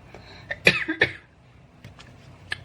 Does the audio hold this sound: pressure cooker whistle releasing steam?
no